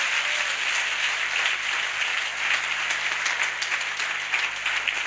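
A church congregation applauds to acclaim the Lord, a steady, dense wash of many hands clapping that holds at an even loud level throughout, with no speech over it.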